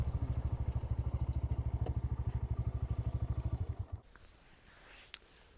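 Motorcycle engine idling and revving with a steady pulsing beat in a mustard field, loud and close for about four seconds before cutting off, leaving faint wind and rustle.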